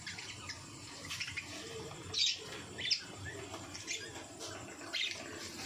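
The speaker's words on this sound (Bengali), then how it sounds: "এই দেখো এখানে কিছু আছে পাখি, বড় পাখি, বাচ্চা বড় হয়েছে" Caged pigeons or doves in a small bird colony give soft coos and a few chirps over quiet background noise, with several slightly louder calls standing out from the hush.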